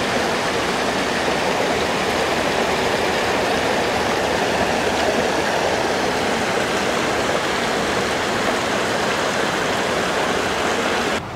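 A small waterfall in a botanical garden in Edmonton, Alberta gives a steady, dense rush of splashing water, close and loud, continuing evenly throughout with no talking.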